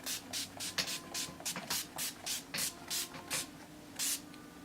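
Urban Decay All Nighter setting spray misted from a pump bottle in about a dozen short, evenly spaced hissing bursts, close and fairly quiet, with no talking.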